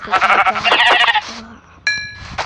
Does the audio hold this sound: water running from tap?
no